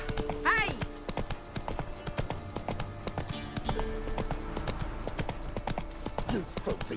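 Hooves of Roach, the horse in the Witcher 3 video game, clip-clop in a steady galloping rhythm, close and clear, with a brief whinny near the start and a continuous game soundscape underneath.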